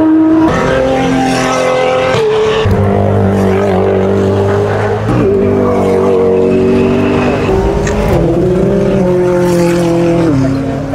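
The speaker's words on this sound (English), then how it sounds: "Oh, it's a Pagani." A Pagani supercar rolls past at a car show, its loud engine rising and falling through several revs and shifts over about eleven seconds, close by and dominating the scene.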